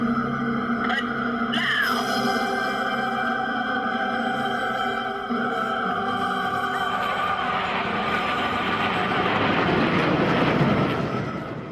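Black Eagles aerobatic team jets flying overhead, a sustained loud engine roar with shifting whining tones that swells and broadens as the aircraft pass, steady throughout without speech.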